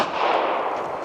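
Rifle fire from another shooter at an outdoor long-range shooting range, a continuous loud, broadband blast and rumble filling the whole moment with no speech.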